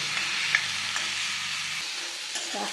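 Tomatoes fry and crackle in a pan of chutney made with Vallari leaves and curry leaves, a steady close sizzle with a few soft clicks and scrapes of stirring, and no voices.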